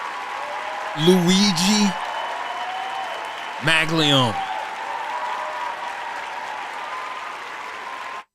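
Studio audience applause runs continuously for several seconds, a steady wash of clapping from a live crowd, while a voice speaks briefly over it twice before the sound cuts off abruptly.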